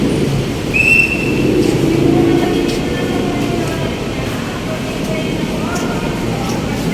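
A Manila MRT metro train rumbles along with a steady low roar and faint rail clatter, punctuated by a brief high squeal, while people talk nearby.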